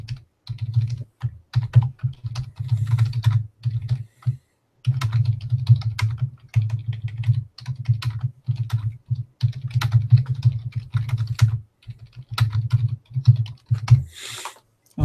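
Steady computer keyboard typing runs in dense bursts with a few brief pauses, close and fairly loud, continuing almost the whole time with no voices.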